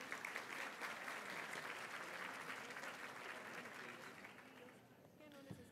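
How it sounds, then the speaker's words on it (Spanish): An auditorium audience at the Aprendo 2017 education event applauds a speaker onto the stage, steady dense clapping that holds for several seconds and then thins out as it ends. "Le damos la bienvenida al escenario de Aprendo 2017 con un fuerte aplauso"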